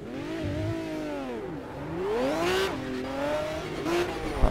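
An Aston Martin race car in Project CARS, heard from the cockpit, revs and shifts through gears, its engine pitch sweeping up and down in repeated rising whines, close and loud, with a brief tire squeal.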